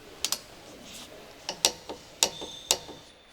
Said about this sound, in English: Using the 14mm short socket with the torque wrench and the 19mm wrench, tighten the brake caliper retaining bolt.